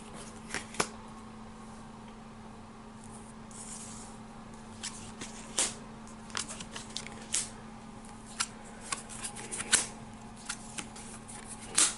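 Cards drawn from a deck during the cooperative board game Fireteam Zero, heard as faint scattered slides, flicks and taps over a quiet room hum, with no voices.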